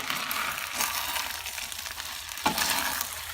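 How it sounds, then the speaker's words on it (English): Pork stirred around in a hot frying pan for pork fried rice: a continuous, moderately loud hiss of frying with scattered scraping strokes and one sharper knock of the utensil partway through. "we're going to stir this around for a minute"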